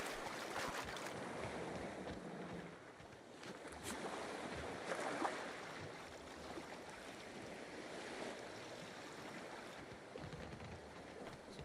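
Water and waves ambience in The Outer Worlds video game: a steady, fairly soft wash of surf and rushing wind with no voices.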